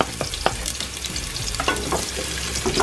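Onions sizzle in a pan with a constant crackling fry, broken by occasional scraping and clinks as they are stirred, close up and without talk.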